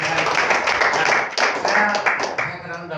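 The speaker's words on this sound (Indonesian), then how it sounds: "Tepuk tangan dong buat adik-adik itu." A church congregation breaks into applause during a sermon, a dense, steady clapping with scattered sharper claps, heard close and loud with voices mixed in throughout.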